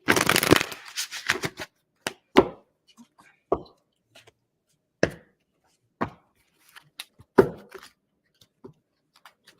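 A deck of tarot cards is shuffled up close, a dense riffling burst followed by scattered soft taps and flicks as the cards are squared and handled, with no talking.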